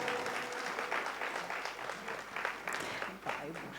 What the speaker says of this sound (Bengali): এদের সকলের জন্য একটা জোর হাততালি হয়ে যাক